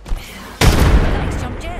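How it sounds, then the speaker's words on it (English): A grenade explodes in the Apex Legends video game with a single sudden loud blast that rolls into a rumbling, slowly fading tail after a quiet moment. "Grenade flung."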